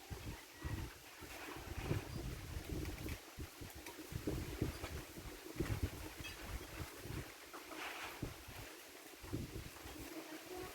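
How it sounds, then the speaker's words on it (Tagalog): Strong hot wind gusts and buffets the microphone at an outdoor carpentry site, a rough, uneven roar that swells and dips throughout with no talk. "Lakas ng hangin, pero init naman ang hangin."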